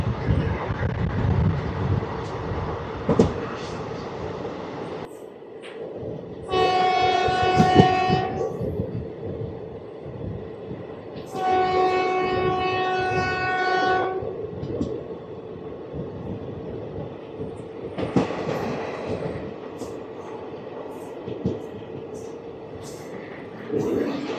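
The Narasapur Express passenger train runs through an unlit station at night, with rolling wheel clatter and rumble throughout and long, loud horn blasts sounding twice in the middle, while people talk faintly.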